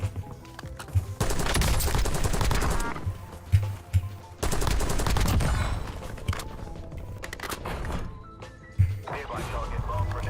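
Call of Duty: Warzone gunfire comes in two long, loud automatic bursts with brief gaps between them, followed by scattered single shots and thuds. Game voice callouts run underneath.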